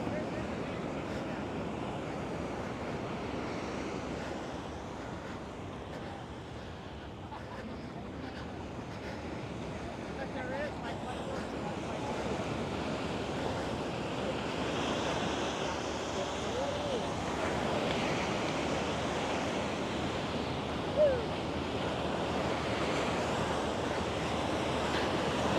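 Ocean surf at Santa Monica beach, a continuous soft wash of breaking waves at the water's edge heard at a distance, mixed with steady wind noise on the microphone.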